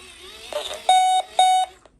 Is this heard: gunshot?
no